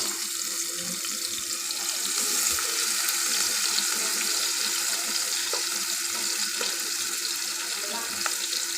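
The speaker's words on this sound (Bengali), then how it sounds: "জিরাটা আমার ফুটে উঠেছে এখন দিয়ে দিচ্ছি বেশ কিছুটা কোচানো পেঁয়াজ" Chopped onions fry in hot oil with popped cumin seeds for a Bengali fish bhuna, giving a continuous close, hissing sizzle with faint crackles scattered through it.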